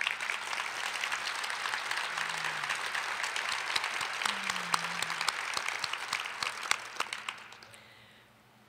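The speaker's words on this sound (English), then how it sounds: "let's give them a round of applause" A civic audience gives a round of applause for the foundation staff at the Prosper Lincoln 2019 event, a steady field of moderate clapping that gradually thins and tapers into near silence.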